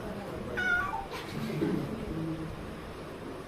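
A cat meows twice in quick succession, close and clear over a quiet, faintly noisy background.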